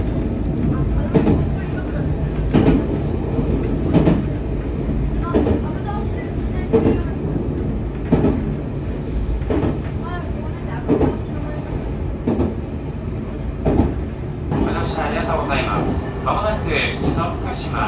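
A special extra train on Japan's Chuo West Line, bound through to the Iida Line, rolls along the rails with a steady low rumble and regular clickety-clack wheel beats every second or so, a brighter rattling rising near the end.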